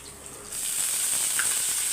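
Drumstick flowers sizzle in coconut oil in a pan, a quiet bright frying hiss that swells after a half-second and holds steady, with a faint stir near the end.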